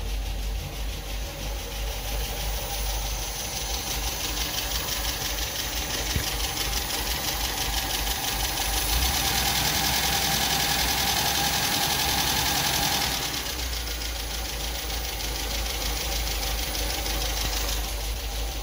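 A 1974.5 MGB's engine idles steadily, a dense, even mechanical drone with a light knocking texture that swells briefly midway and then settles, close up and with no talking over it.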